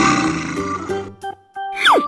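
A low guttural growl from a bear in an animal slide video game, rough and close, broken by brief pauses and ending in a short sliding tone.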